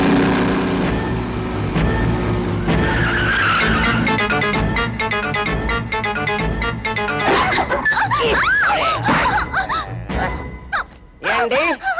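A car skids with squealing tyres as it rams into someone during a Tamil action-movie fight, loud and dense, layered with dramatic music and swelling crash effects that build toward the end.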